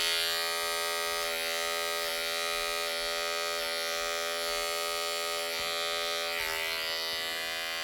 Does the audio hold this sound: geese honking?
no